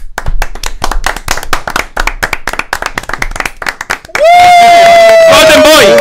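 A studio show audience bursts into loud clapping that fills the room, sharp and dense claps, with a host talking over it before a sustained tone sweeps in near the end.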